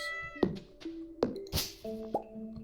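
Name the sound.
cat meowing in the video game Stardew Valley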